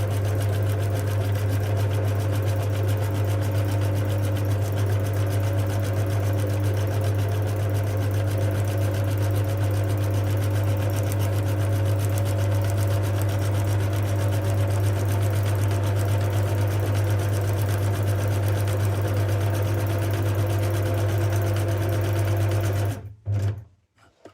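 A sewing machine runs a steady, continuous stitch down the middle of joined fabric pieces, humming close and loud for over twenty seconds before stopping abruptly.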